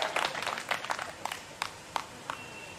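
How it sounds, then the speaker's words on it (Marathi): Women in an audience at a Marathi lecture and interview event clap in scattered, sharp bursts, a thin uneven round of applause heard at a moderate distance without speech over it. "हे टाळ्या वाजव महिलांनी"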